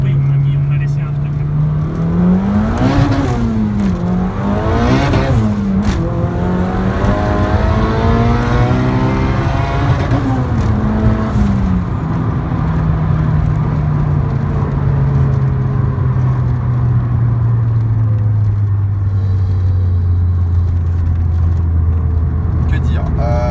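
A turbocharged Honda Civic EK with a B16A2 engine, its engine and exhaust droning loudly with rising and falling revs, then a long smooth pull settling lower, while people talk over it.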